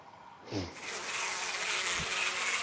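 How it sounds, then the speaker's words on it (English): Insect-like droning buzz of a bee swarm in the Death Mark video game, with a rising whoosh early on and a steady, fairly loud hum that carries through the rest. "Bees."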